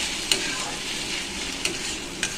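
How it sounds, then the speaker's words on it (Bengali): Onion and poppy seed paste fries in a pan with a continuous bright sizzle, broken by three sharp scrapes of a spoon stirring, close and fairly loud. "এখন আমি কিছুক্ষণ এটাকে ভাজা ভাজা করব"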